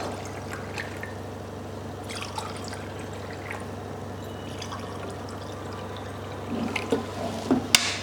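Mineral water poured into drinking glasses: a faint, steady trickle over a low background hum, rising into a few louder splashes and clinks near the end.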